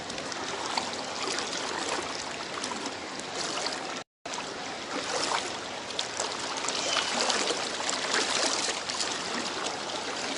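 Strong floodwater rushes steadily past, a loud broadband roar that fills the scene throughout, with only a brief break partway; a flood submerging rice fields in Na Haeo, Loei.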